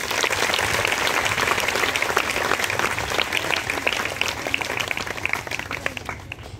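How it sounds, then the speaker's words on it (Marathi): Loud, sustained applause from an audience at a school teachers' program marking Savitribai Phule's birth anniversary, dense clapping throughout that thins slightly near the end. "टाळ्या वाजवा।"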